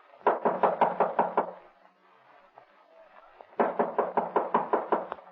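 Two loud, close bursts of rapid knocking on a door bolted from the inside, about seven raps each, separated by a short quiet gap.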